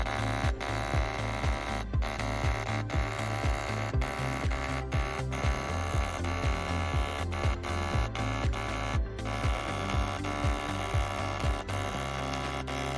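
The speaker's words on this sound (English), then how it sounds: "press the marking button to begin the engraving process" A dot peen marking machine engraves raised text into aluminum. Its stylus taps in a rapid, continuous, buzzy stream, broken by regular brief pauses as the head steps along. The sound is close and steady.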